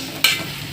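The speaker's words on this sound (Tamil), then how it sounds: "அந்த அளவுக்கு நல்லா வதக்கி எடுத்துக்கலாம்." Tomatoes sauté in hot oil for mutton biryani, with a sharp stirring scrape partway through over a soft, steady sizzle; brief, close and with no talk.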